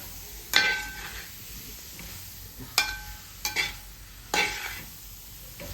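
A spoon stirs sugar into a bilimbi pickle in a pan, with four separate scraping, clinking strokes against the pan spaced over several seconds above a faint, quiet background.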